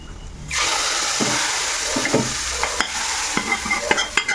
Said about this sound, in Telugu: ఇప్పుడు తాలింపు వేసేసుకుందాం.